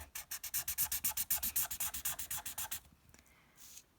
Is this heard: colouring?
yes